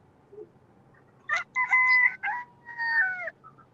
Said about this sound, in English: I heard the chicken call.